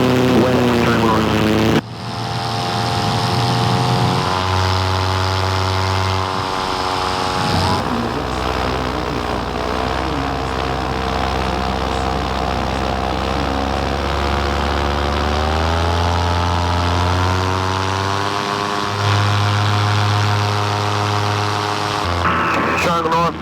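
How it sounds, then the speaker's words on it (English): Small propeller airplane taking off from runway 23, a loud droning engine and whirring prop heard from inside, rising and steadying as the power builds, with a voice talking over it. "Taking off runway 23, park to the west, turn north."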